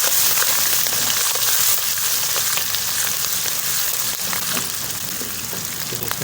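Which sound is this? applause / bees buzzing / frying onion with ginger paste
frying onion with ginger paste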